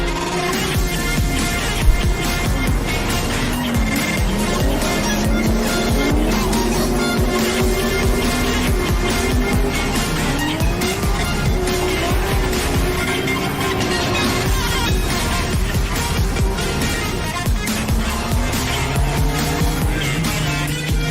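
Loud car exhaust roars and revs continuously, with tires squealing, mixed with music throughout.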